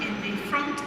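A Class 458 electric train running over rail joints and points between Clapham Junction and London Waterloo, heard from inside as a steady rumble with clatter, under talk.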